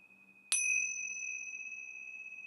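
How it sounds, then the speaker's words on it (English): Small Tibetan bells are struck once, giving a bright metallic ding that rings out clearly and decays slowly into a long sustained tone. "These are just some little chime, little bells, Tibetan bells, I guess they call them."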